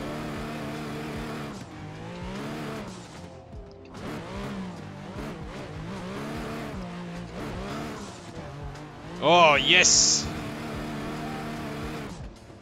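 A competition drift car in Assetto Corsa revs hard, the engine rising and falling through repeated throttle blips, with a brief loud tire squeal near the end; the driver gives a short excited shout.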